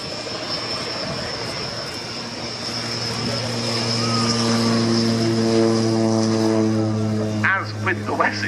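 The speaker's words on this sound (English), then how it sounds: "the now quite rare sound accompanying it of the Rolls-Royce Dart turboprop engine" A Rolls-Royce Dart turboprop aircraft flies past at the Royal Navy air day at RNAS Yeovilton in 2019, its droning, whining engine tone swelling as it nears, with faint commentary and crowd noise around it.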